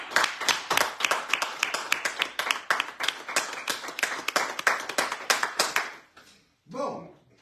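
Rhythmic clapping in applause for caregivers, many sharp close hand claps in a steady beat for about six seconds, then stopping as a voice begins.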